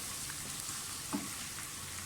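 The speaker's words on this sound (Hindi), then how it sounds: "इनको अच्छी तरह से ज़रा फ्राई कर लें" A quiet, steady sizzle of garlic-ginger paste and spices frying in a pan, close and low, with a faint clink partway through.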